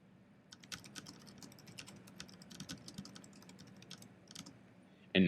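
Someone types on a computer keyboard, quick light clicking keystrokes in irregular bursts, close and fairly quiet, ending with a louder tap.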